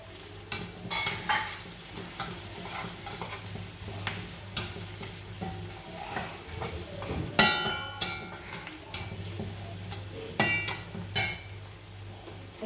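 Curry leaves crackle and sizzle in hot oil while making kadala curry, with a steady fry hiss broken by sharp pops and scattered utensil clinks against the pan.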